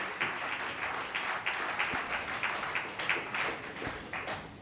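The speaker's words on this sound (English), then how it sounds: "Please give a big, big round of applause for him." At a corporate awards ceremony, a modest crowd gives uneven, patchy applause, individual claps standing out in loose bursts at moderate distance and fairly faint.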